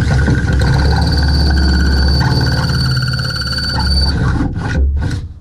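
A power drill bores a hole through the steel hood of a Jeep Wrangler JK for a JL hood latch, a loud continuous grinding whine with rough scraping texture that drops off abruptly near the end.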